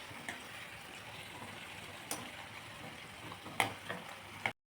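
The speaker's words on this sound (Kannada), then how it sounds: "ಸೊ ಇವುಗಳನ್ನ ನಾವು ಚೆನ್ನಾಗಿ ಫ್ರೈ ಮಾಡ್ಕೊತಾ ಇದ್ದೀವಿ ನೋಡಿ" Pumpkin gargi fritters deep frying in hot oil, a steady close bubbling sizzle throughout with a few light clicks and taps of a utensil before it cuts off abruptly.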